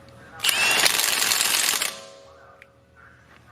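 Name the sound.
Milwaukee stubby impact wrench removing a bolt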